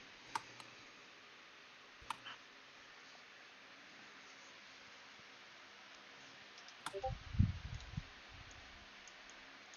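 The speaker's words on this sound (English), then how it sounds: "Let me type it for you." Computer keyboard typing a script, quiet scattered key clicks with long pauses, a brief cluster of louder taps and a thump near the end over faint background hiss.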